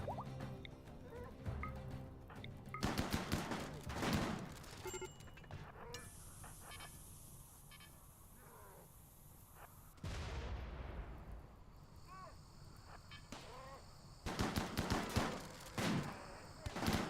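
A turret in the RimWorld colony game fires in scattered bursts of sharp shots and a few heavier blasts, mixed with other battle noise and stretches of quieter ambience, with faint talk at times.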